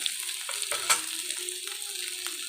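Boiled potato pieces fry in a pan, giving a dense, continuous crackling sizzle close by. A single soft knock of the spoon comes partway through, and there is no talk.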